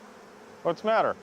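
Bees swarm and buzz around a laptop in a steady, droning hum that runs throughout, with a voice briefly speaking over it.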